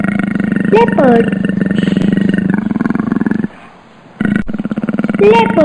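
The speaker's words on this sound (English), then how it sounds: "Leopard." A leopard's roar, deep and rasping, repeated in a sequence of guttural bursts with a short pause in the middle, loud and close, alongside a child-friendly voice naming animals.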